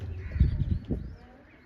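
A few low, throaty coos from pigeons sound close by, a short rounded burst that fades into quiet.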